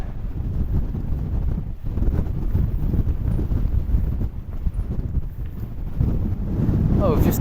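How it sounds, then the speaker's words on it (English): Strong gusty wind buffets the microphone on an exposed mountain ridge in the Lake District near Catstye Cam, a loud rumbling roar that swells and dips throughout. "I can't do any filming at all, it's far too windy."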